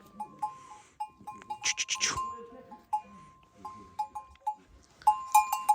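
Sheep bleat several times close by, with a bell clinking intermittently and occasional rustling between calls, near Kangal dogs.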